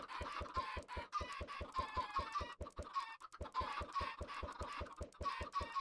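Chickens in the video game Minecraft cluck in quick repeated bursts, a dense, fairly faint stream of clucks with a brief pause midway.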